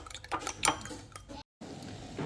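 Three eggs with a pinch of salt being whisked in a metal bowl, fast clinking taps of utensil on the bowl in irregular bursts, fairly quiet, with a brief cut to silence partway.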